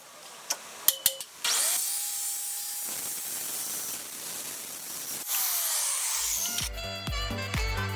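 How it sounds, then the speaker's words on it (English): A track saw whines up and cuts through wood with a sustained buzzing rasp, after a few sharp clicks, then winds down into a rattling stop. "The old redneck track saw works every time."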